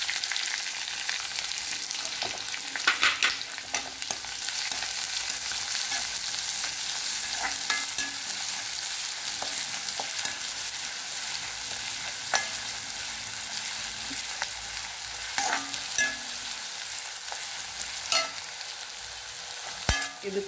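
Green chillies frying in a pan for samba rava upma, with a steady close sizzle and repeated scraping stirs throughout, no voices.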